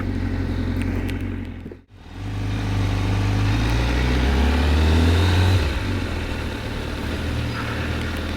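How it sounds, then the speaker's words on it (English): Honda CBR1000RR-RSP motorcycle with an Akrapovic exhaust, its loud engine droning and revving close by, dipping briefly to near silence before swelling back into a strong, steady roar. "The Akrapovic sound, always fantastic"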